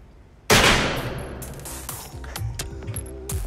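A gunshot fired into a ballistic pendulum gives one sudden, loud, close crack. Clanging, ringing clatter and rattling follow over the next few seconds.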